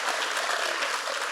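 A crowd at a climate leadership event claps in a brief, dense, even burst of applause.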